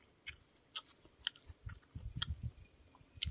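Someone chews rose petals with Thai rice noodles in fish-kidney curry, giving soft, wet, crunchy bites in a slow irregular rhythm, close and quiet, with no talking.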